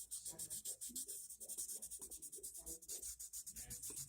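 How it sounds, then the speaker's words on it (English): Painted plastic is lightly sanded by hand in quick, steady back-and-forth strokes, a soft rhythmic scratching that stays close and faint with no talking. "So I'm going to lightly just sand these areas"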